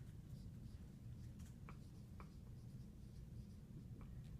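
A pen writes on paper during a chemistry lesson, quiet scratchy strokes in short, irregular bursts close to the microphone, with no talking.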